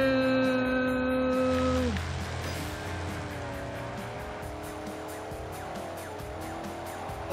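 Tires squeal steadily as a car drifts in Forza Horizon, a sustained skidding whine over a humming engine note that stays loud throughout.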